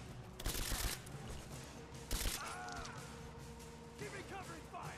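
Gunfire during a firefight in the Rise of the Tomb Raider video game: two short loud volleys with mechanical clatter in between, set against a busy background with a voice faintly present.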